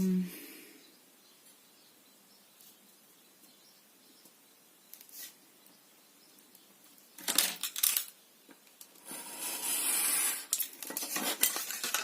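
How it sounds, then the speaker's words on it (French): Paper or card cut to a point for a handmade mini album: a long quiet stretch, then a cluster of close, crisp scissor snips and rustling that grows busier toward the end. "on va couper pour obtenir une pointe"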